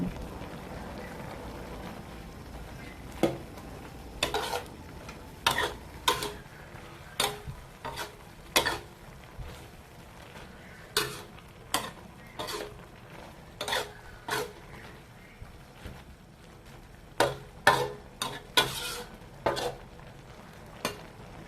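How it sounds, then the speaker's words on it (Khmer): A spatula stirs a beaten egg into fried pickled cabbage with pork in a pan, with repeated sharp scraping clatters at an uneven rhythm over a faint sizzle, close and clear. "ខ្ញុំបានឆាច្របល់ពងមាន់ជាមួយនឹងឆារបស់យើងនឹងឲ្យឡើងសព្វគ្នាបន្តិច"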